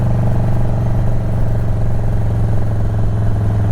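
A Harley-Davidson Dyna Low Rider S thumps along at a steady cruise, its V-twin rumbling loud and continuous up close with a throbbing low beat and no letup.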